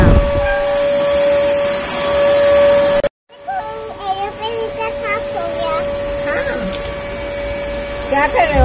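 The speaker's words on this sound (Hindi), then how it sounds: "हमने fantastic budget friendly अगैरो vacuum cleaner से अपना घर" A budget Agaro household vacuum cleaner runs with a steady high whine and hiss, cutting off briefly partway through, while a person talks over the motor drone indoors at home.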